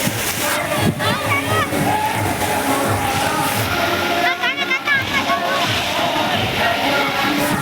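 Water at a Gujarati water park rushes and splashes steadily and loudly, a continuous churning wash like falling water, with people talking and a crowd murmuring throughout.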